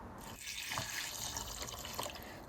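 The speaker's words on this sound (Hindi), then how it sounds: "सबसे पहले मैं छुआरों को पानी में भिगो रही हूँ।" Water runs steadily from a tap into a container, soaking dried dates for panjiri, a continuous close splashing and gurgling rush with no talking.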